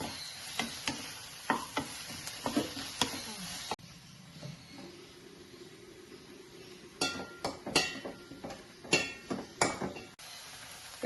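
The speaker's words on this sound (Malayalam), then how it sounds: "വീണ്ടും നന്നായിട്ട് ഇളക്കാം. ഇനി സവാള നന്നായിട്ട് വരണ്ട് വരുമ്പോഴേ" Onions stirred and sautéing in a pan for chicken curry, with scattered clinks and scrapes of a utensil against the pan over a soft, faint sizzle, loudest in clustered bursts toward the end.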